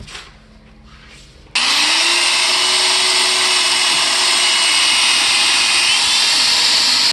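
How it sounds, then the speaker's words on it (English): A loud, steady high-pitched whine starts abruptly after a quiet moment and holds constant, like a power drill running continuously up close, drilling a hole at a Mustang's upper control arm mount. "So I gotta drill a hole."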